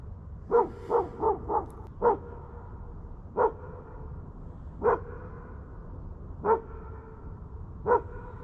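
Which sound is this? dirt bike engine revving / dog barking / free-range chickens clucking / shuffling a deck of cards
dog barking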